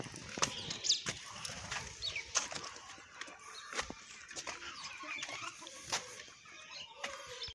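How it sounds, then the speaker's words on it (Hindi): Hens clucking while pecking at corn grains on a village rooftop, soft clucks and scattered sharp pecking clicks, fairly close and irregular. "कैंडी और शेरू ज़्यादा खा रहे हैं, और बाकी जो है मुर्गियाँ भी साथ साथ खा रही हैं।"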